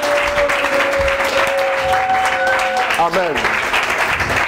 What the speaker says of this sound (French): pouvons-nous acclamer le Seigneur fortement